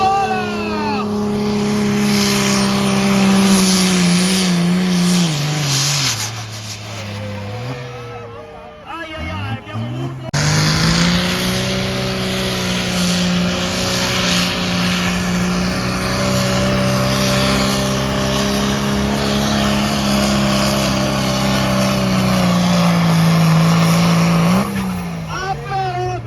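A pulling tractor's engine revs hard and loud at the launch of a tractor pulling event, a sustained roaring drone with pitch climbing and dipping, a brief drop near the middle, and an announcer talking over it.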